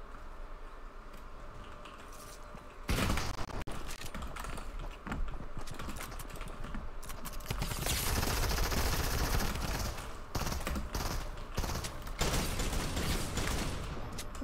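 Rapid gunfire from dual hand cannons in the Fortnite video game, a dense sustained barrage of loud overlapping shots that intensifies partway through a close-range fight.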